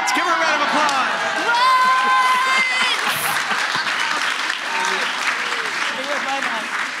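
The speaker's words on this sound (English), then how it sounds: "Give her a round of applause" A live festival audience claps loudly and continuously with scattered whoops, and a voice talks over the applause throughout.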